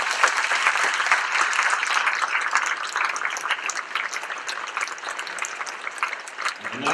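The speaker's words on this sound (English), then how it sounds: "Give him a big round of applause." Concert audience at the Kinnari Music Festival applauding a piano soloist after a Mozart concerto movement, full, bright and continuous clapping from a large crowd.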